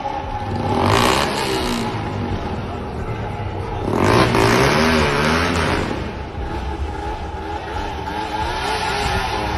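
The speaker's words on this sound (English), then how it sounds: "the unmistakable roar of the suspect's motorcycle reverberates through the surroundings" A suspect's motorcycle roars during a police chase, its engine surging loudly in two big revving swells over a steady, sustained drone.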